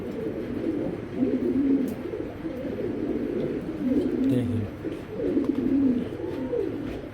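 Afsan grizzle racing pigeons cooing in low, repeated throaty bursts, close by, with someone talking over and between the calls.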